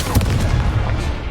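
An Accio spell goes off in the Hogwarts Legacy video game as a loud, dense, continuous rumbling blast of combat effects with booming low end, lasting about a second.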